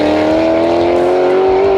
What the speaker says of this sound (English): it sounds like a total race vehicle